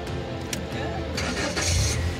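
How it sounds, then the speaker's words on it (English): A car engine cranks and turns over on a vehicle fitted with a joystick steering system, a rising mechanical whir that catches near the end, heard close up inside the car with some background voice and rustle. "And now we're going to start the car up."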